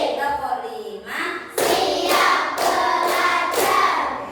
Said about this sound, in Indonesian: tepuk satu, tepuk satu, tepuk dua, tepuk tiga, tepuk empat, tepuk lima